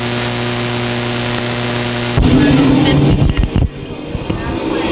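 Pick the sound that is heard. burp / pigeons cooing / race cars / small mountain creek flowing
race cars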